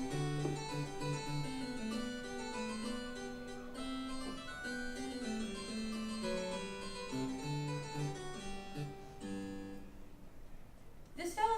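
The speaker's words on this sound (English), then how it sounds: "Baroque music is often on a harpsichord" Baroque music played on a harpsichord, bright plucked tones running in several intertwining melodic lines at a soft, even level and cutting off near the end, with no talking.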